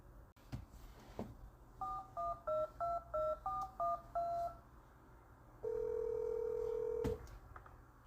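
A phone number is punched in as a string of about ten touch-tone beeps, followed by a single longer ringback tone, faint and close, with no talking.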